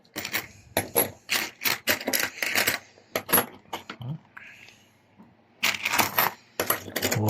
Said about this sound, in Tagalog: Ito na yung mga barya, bibilangan natin.